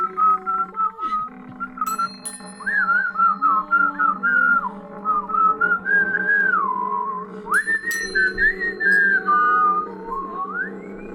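A bus driver whistles a wavering, nervous-sounding tune nearby, repeating a chorus in short phrases with brief pauses, loud and alone without talk.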